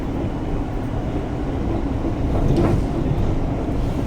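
Train running on rails on the approach to Watford Junction, a steady rumbling roll with faint rhythmic clacks, heard from inside the carriage at moderate loudness.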